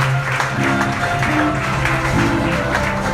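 A church congregation claps and acclaims the Lord, a steady, dense wash of applause and crowd noise with a sustained organ or keyboard tone underneath, loud and continuous throughout.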